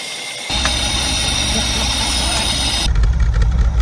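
A Holden Commodore engine suddenly rumbles to life and settles into a steady, loud idle, with a low throbbing hum running throughout.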